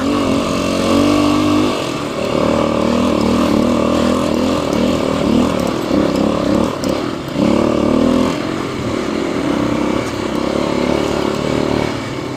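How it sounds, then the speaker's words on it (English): A dual-sport motorcycle, a Kawasaki KLX250s or Yamaha XT250, rides in first gear at around 4,000 RPM. Its engine drones loud and close and steady throughout, with slight swells in pitch and clattering underneath. "right now I'm riding in first gear, and first gear is very, very good for most of this"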